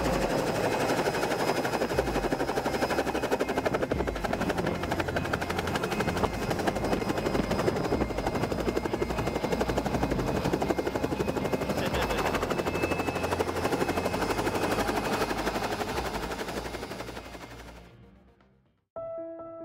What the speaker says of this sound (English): helicopter coming and going